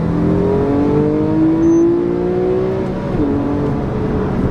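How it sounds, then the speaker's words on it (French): A Porsche 997 GTS revs hard in second gear, its engine note climbing smoothly and loudly up to the 7000 rpm cut, then dropping abruptly as the limiter bites. "Vous voyez, à 7000 tours, il y a cette coupure un peu là de gaz."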